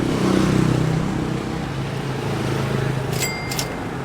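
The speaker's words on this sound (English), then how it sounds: "all of a sudden 5 cars will go by beeping" A car passes by on a nearby road in Hội An, Vietnam, its engine and tire noise swelling then fading into a steady background rumble.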